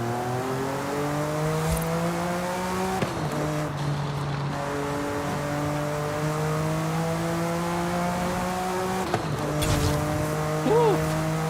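Car engine in the Forza Horizon 5 racing game, revving up through gears with rising tones, brief shift breaks and some tire squeal, loud and continuous, with faint talk underneath.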